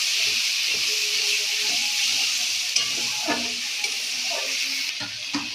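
Ginger and cumin paste frying in a pan for a country chicken curry, with a steady loud sizzle and hiss throughout and occasional scrapes of stirring near the mic.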